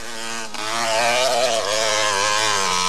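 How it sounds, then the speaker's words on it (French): A stock Yamaha DTR 125 two-stroke motorcycle engine revs up close and loud, its buzzing note climbing after a brief dip and then holding high and steady, with no talking. "C'est une moto une DTR Yamaha d'origine, c'est-à-dire que c'est une moto de Monsieur Tout-le-Monde."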